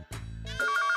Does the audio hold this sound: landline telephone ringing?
yes